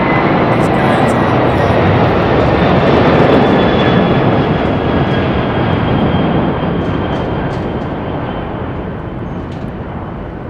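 Boeing 747 arriving at Heathrow, a loud continuous jet roar that slowly fades as the aircraft passes, heard outdoors at close range.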